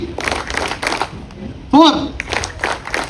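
An audience at an Onam celebration in Oman claps on command in short rhythmic bursts, loud and close, while a voice speaks between the rounds.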